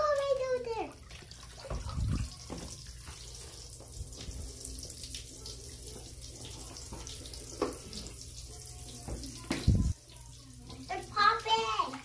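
A crackle bath bomb fizzing and popping in bath water, with running water from the tap: soft sporadic crackles and pops under the flowing water, with a child and an adult talking quietly at times.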